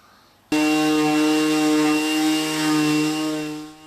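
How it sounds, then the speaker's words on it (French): A power sander works a weathered wooden mountain chalet facade with coarse 40-grit paper, starting abruptly and running as a loud, steady droning whine close up with slight wavering in pitch, no talking. "je viens de commencer le premier ponçage à 40"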